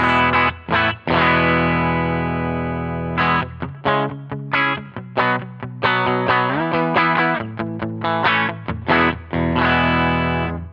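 A distorted electric guitar through a Line 6 Stadium XL amp modeler preset plays sustained chords and choppy riffs, with gritty, effected amp tone ringing out alone.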